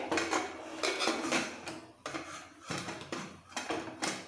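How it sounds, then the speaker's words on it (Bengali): Metal lid set onto a pressure cooker while making chicken biryani, a series of soft clanks and scrapes of metal on metal at close range, repeated several times. "এবার লিডটা দিয়ে দিচ্ছি হাই ফ্লেমে রেখে একটাই সিটি দিয়ে নিতে হবে"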